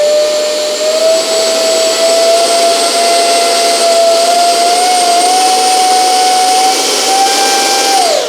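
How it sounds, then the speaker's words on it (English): An E-flite Habu SS 50mm electric ducted-fan RC jet runs steadily in reverse-thrust mode, a loud continuous high-pitched turbine whine with sustained tonal harmonics that holds for several seconds and then drops off at the end. "you can do your normal controllable reverse thrust"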